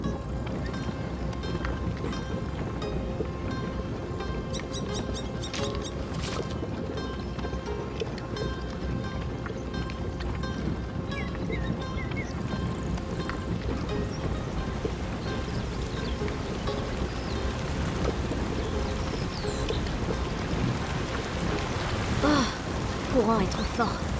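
A strong river current rushes steadily past a giant grain-crushing water wheel in A Plague Tale: Innocence, a faint, continuous watery wash with occasional splashes and thumps while people talk.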